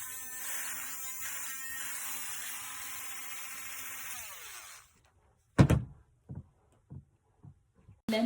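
A HARDELL mini cordless 5-speed rotary tool with USB charging whines steadily at close range for about four seconds, then winds down and stops, followed by several sharp knocks and clicks of handling.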